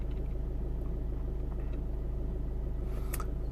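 A Land Rover Freelander TD4 diesel, in limp mode with a P1260 fault, runs at steady revs with a low, even throbbing pulse and a constant rumble, close by and alone, with a brief higher whine near the end.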